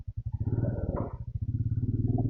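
A motorcycle engine idles close by at the start of a ride from Mumbai to Pune, a rapid, steady low throb. It briefly swells once as if revved, then settles back to a rhythmic putter.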